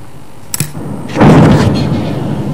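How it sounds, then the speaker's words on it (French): A massive night explosion at a Russian ammunition depot in Nova Kakhovka, near Kherson, Ukraine: a sharp distant crack, then a heavy boom that swells into a loud, rolling rumble and slowly fades. "Une gigantesque explosion dans la nuit de Nova Kakhovka, près de Kherson"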